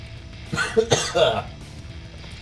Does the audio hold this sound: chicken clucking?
no